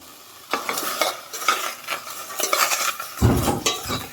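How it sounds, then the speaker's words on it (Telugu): Repeated scraping strokes of a spoon stirring onions and green chillies in a pan over a soft sizzle, with a few metallic clinks, close and rhythmic. "తర్వాత ఉల్లిపాయలు, పచ్చిమిర్చి ఇలా వేసి ఒకసారి కలపాలి."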